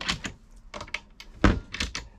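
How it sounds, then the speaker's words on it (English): Galley drawers on a 2007 Fairline Targa 40 yacht being opened and shut, a series of close wooden clunks and knocks with one heavier thud midway, no talking. "A couple of drawers under there,"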